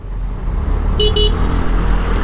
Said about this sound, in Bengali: খুবই বিরক্তিকর এই হর্নের সাউন্ডগুলা